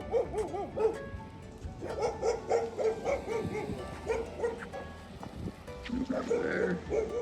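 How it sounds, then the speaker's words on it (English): Several dogs barking and yipping along a tree-lined small-town residential street, the barks repeating irregularly throughout at moderate distance, mixed with people talking and a steady outdoor background. "Another street full of dogs."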